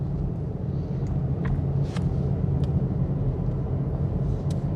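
A car cruises along in a video game, its steady engine drone and low rumble running throughout with a few faint brief clicks on top.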